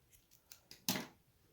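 A few quick snips of scissors cutting crochet yarn while finishing a handle-less basket, soft clicks building to one louder, close final cut, with no talking.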